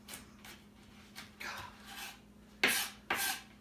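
A knife chops onions on a cutting board in a home kitchen, a series of quiet, spaced scraping strokes building to two louder, sharper cuts near the end.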